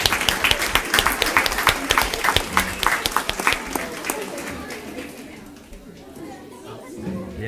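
Audience applause after a performance at a school district board meeting, dense clapping that starts loud and thins out toward the end, with chatter mixed in.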